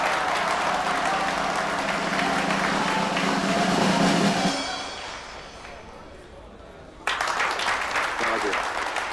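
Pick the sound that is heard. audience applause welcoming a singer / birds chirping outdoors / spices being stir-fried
audience applause welcoming a singer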